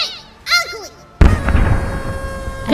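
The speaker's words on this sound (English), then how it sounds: "incongruously squeaky explosion sounded in the distance" A squeaky, high-pitched whistling sound is cut off by a sudden loud bang and a rumbling decay, an explosion effect in a full-cast audio drama.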